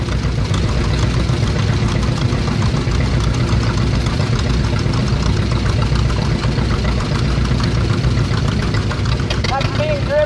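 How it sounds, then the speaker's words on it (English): A heavy 501 cubic inch two-cylinder vintage tractor engine idles and chugs with a steady, loud low rumble throughout at a parade, with faint voices in the background. "That's a 501 cubic inch two-cylinder tractor."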